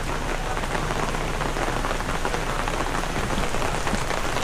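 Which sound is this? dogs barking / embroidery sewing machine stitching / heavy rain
heavy rain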